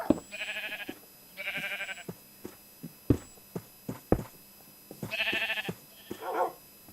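Sheep in Minecraft bleat repeatedly, three wavering, nasal calls spaced a couple of seconds apart, with sharp footstep-like clicks and taps scattered between them, close and fairly loud.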